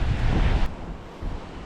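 Strong wind buffets the microphone on an open seashore during a fishing trip, a loud, broad rumbling roar with gusts over the first half, easing to a steadier blustery rush with surf-like wash beneath.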